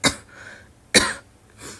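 Two sharp coughs about a second apart, close by, followed by a softer throaty exhale.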